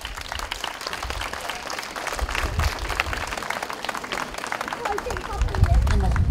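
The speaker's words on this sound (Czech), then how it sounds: "Prosím, velký potlesk." Steady applause from a crowd at a honey festival event in Hlinsko, Czech Republic, dense clapping that swells slightly louder toward the end.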